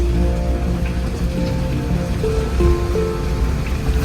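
Rain spatters steadily around a jeep on narrow, muddy roads, blending with a continuous low engine and road rumble from inside the vehicle as it drives along, with no one talking.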